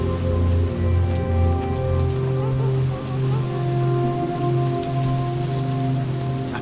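Severe rain in the video game How We Know We're Alive, a steady, loud wash of drops hitting surfaces, alone, under a sustained low hum.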